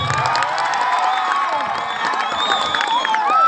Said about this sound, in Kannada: ಹೊಳೆಮಣ್ಣೂರು ತಂಡ ಗೆಲ್ತದ ಅನ್ನೋರು ಒಂದ್ಸಲ ಜೋರ್ ಚಪ್ಪಾಳೆ ಕೊಡಿ ನೋಡೋಣ